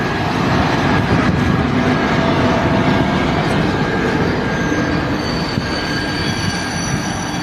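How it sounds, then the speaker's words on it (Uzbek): A passenger train rolls into Mang'it railway station, a loud steady rumble of wheels on rails with high metallic squeals running over it throughout, heard up close on the platform. "Poyezimiz kirib kelishdi."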